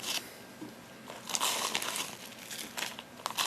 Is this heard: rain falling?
no